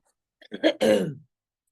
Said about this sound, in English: I'm still dealing with this cough